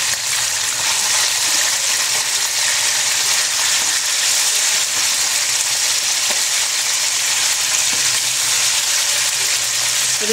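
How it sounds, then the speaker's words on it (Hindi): Chicken pieces fry in a hot pan, giving a loud, continuous sizzle that stays even from start to finish with no talking. "इसे मैं उस वक्त तक अच्छी तरह फ्राई करूँगी जब तक इसका कलर नहीं चेंज हो जाता।"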